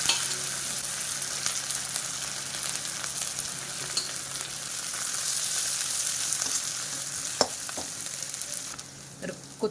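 Fresh coriander leaves frying in hot oil for poha chivda, a dense continuous sizzle and crackle close up, with a few sharp pops and occasional stirring clicks.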